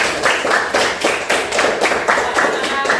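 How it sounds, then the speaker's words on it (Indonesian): A classroom applauds after a student group presentation, a brisk, fairly close round of hand clapping with rhythmic bursts of claps and faint voices underneath. "oke, tepuk tangan semuanya"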